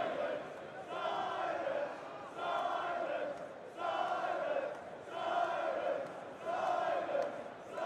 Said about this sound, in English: I love that little NRG cheering section